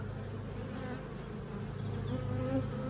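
Honey bees buzzing inside an opened hive well stocked with honey, a dense, steady close-up drone of many bees with small shifts in pitch.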